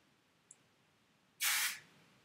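A single short, close burst of hairspray hisses from the can onto a messy braided sock bun, preceded by a tiny faint click in an otherwise quiet room.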